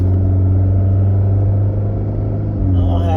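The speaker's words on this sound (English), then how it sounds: "hey, my truck running loud." A truck engine idles loudly and close by, a steady low rumble with a deep droning hum that holds throughout and shifts slightly near the end.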